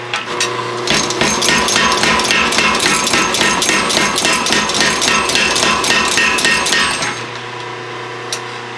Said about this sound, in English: probably double it up forge weld again